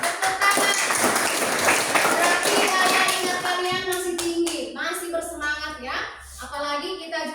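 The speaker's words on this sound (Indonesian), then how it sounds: "tepuk tangan" A classroom of students claps hands together in a lesson, a dense burst of applause that fades as a teacher's voice and children's chatter carry on over it.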